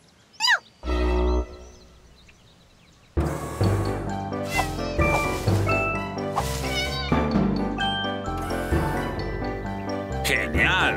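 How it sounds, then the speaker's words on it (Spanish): Cartoon cats meow and caterwaul in a string of loud, rising and falling cries while being chased up a tree by a dog, layered over background music after a brief quiet opening. "Barky está persiguiendo a todos mis gatos hasta un árbol."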